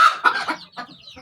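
Desi hens cluck in short, close bursts with a brief pause between calls, fairly loud against a quiet farmyard.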